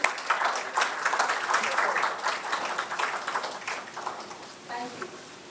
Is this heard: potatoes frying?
no